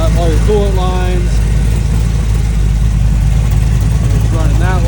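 A rear-steer race car's engine idles in a steady, loud, low rumble that stays even throughout, with a person's voice briefly rising over it near the start and again at the end.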